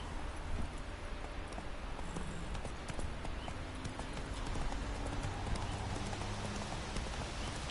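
Horse hooves clip-clop steadily in The Witcher 3, a soft, even gait from a ridden horse at close range, continuing throughout without talk.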